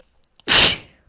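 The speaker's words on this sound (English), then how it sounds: "Oh, I have to sneeze." A single close, loud human sneeze bursts out after a quick intake of breath, a sharp explosive hiss that fades within half a second, alone with no speech around it.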